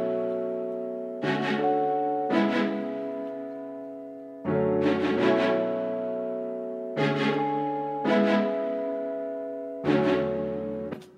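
Rhodes electric piano layered with strings and keys in a hip hop beat, sustained chords struck about every two seconds and decaying between hits, loud and alone with no talking.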